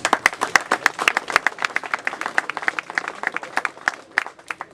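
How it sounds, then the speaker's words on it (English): A small group at a Recon G6 owners' meet claps steadily for several seconds, brisk and close, with the applause thinning slightly toward the end. "Give yourselves a big round of applause."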